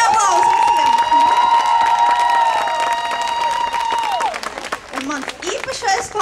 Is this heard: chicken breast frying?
no